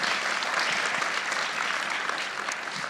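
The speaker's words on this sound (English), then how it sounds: "A round of applause, please, for that." Steady applause rises from the audience at a Global Citizen panel discussion, many hands clapping together in a thick wash that fades slightly toward the end.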